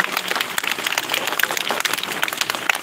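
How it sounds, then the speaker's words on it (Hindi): Applause from schoolchildren greets villagers at a school Independence Day celebration, a steady, dense patter of clapping that holds evenly for a few seconds without talk. "सभी बच्चे हमारे समस्त ग्रामवासियों का तालियों से जोरदार स्वागत करेंगे।"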